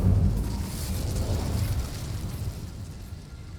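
Incendio fire spell cast in Hogwarts Legacy, a loud, low whooshing burst of flame that swells at once and then rolls on steadily as it fades.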